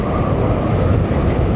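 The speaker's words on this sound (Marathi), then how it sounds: "अरे ट्रेन जाते" Konkan Railway train passing close by, a loud, steady rumbling roar filling the short stretch without a break, no talk.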